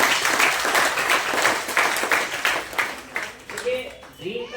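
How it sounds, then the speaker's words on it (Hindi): Audience members at a personal growth training session clap for themselves, a steady burst of many hands applauding that thins out, with a voice speaking over the final moments. "बहुत बहुत धन्यवाद, एक बार ताली अपने लिए।"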